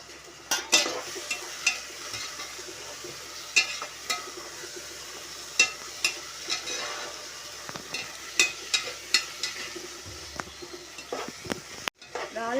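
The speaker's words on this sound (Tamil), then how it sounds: "நல்லா அடி பிடிக்காமல் கிண்டி விடுங்க. இஞ்சி பூண்டு பேஸ்ட்டு வதங்கினோன்னே இறால் போட்டுக்கலாம்." Ginger garlic paste fries in a pan for prawn biryani while a spoon stirs it, giving a soft sizzle under repeated scraping taps against the pan, each tap close and distinct.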